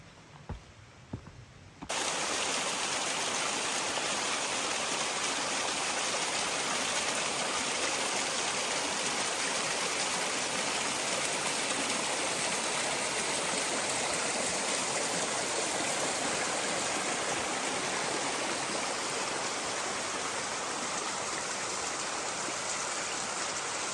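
A waterfall in Coeur d'Alene National Forest roars steadily after a brief quiet start, a dense, constant close rush of falling water that runs unbroken to the end.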